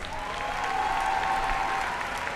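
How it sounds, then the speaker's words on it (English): A large crowd applauds the faculty at a college commencement ceremony, a dense, sustained wash of clapping heard from within the audience. "Let's give our outstanding faculty a huge round of applause"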